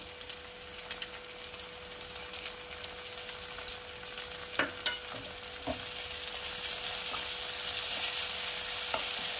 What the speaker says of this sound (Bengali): এবারে দিয়ে দিচ্ছি কুচি করে রাখা টমেটো